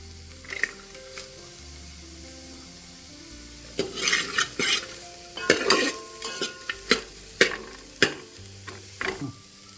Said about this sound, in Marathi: चांगलं फ्राय करून घेऊया कांद्याला